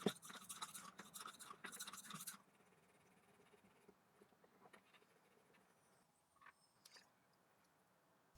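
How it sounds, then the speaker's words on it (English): A Scotch-Brite pad scrubs rusty steel from an Emco Unimat SL lathe in quick, close, rhythmic rasping strokes for about two seconds, then gives way to near silence with a few faint clicks. "I'll try using a bit of Scotch-Brite to work on those bits."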